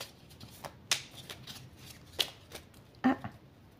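Tarot cards being shuffled by hand, a few short crisp riffling flicks and soft slides spaced out over a quiet room, close and fairly faint.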